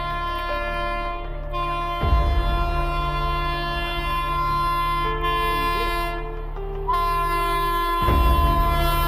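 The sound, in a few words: train horn sounding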